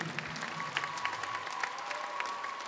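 Large audience applauding in a packed arena during a welcome event in Łódź, dense steady clapping with faint crowd noise, filling the whole short stretch at moderate level.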